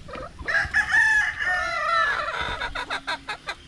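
A rooster crows loudly up close, followed by a quick run of sharp, rhythmic clucks from nearby hens.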